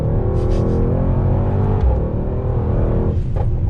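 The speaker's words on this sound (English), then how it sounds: "you can really hear the engine note." Mercedes-AMG GT63 S four-door on the Sepang circuit, its engine heard from inside the cabin as a loud, continuous deep rumbling drone that holds steady under load, with no talk over it.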